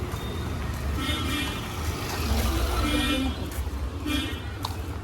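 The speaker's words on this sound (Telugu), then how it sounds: "ట్రాఫిక్ ఎక్కువైపోయింది ఈరోజు దేనికో మరి" Steady road traffic rumble with passing engines and occasional short horn toots in the background, fairly constant throughout.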